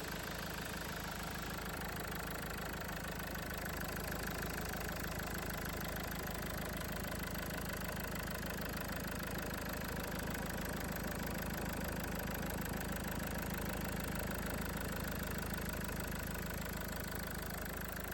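A Range Rover Evoque 2.0 diesel engine idles steadily after an injector seal repair, a continuous even rumble with a faint ticking clatter, heard up close under the open bonnet with no talking.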